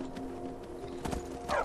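Hooves of a horse in the Skyrim video game thud in quick rhythmic clip-clop beats, fairly quiet over a low game soundscape, with a brief louder burst near the end.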